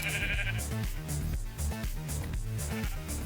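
Sheep in the Minecraft video game bleat repeatedly in short, regular calls over a steady background, with no talking.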